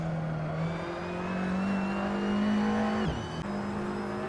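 A race car in a sim racing league race at Zandvoort accelerates hard at full throttle, its engine note climbing steadily before a sharp drop at an upshift and renewed rise, loud and close with no talk.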